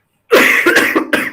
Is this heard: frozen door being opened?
no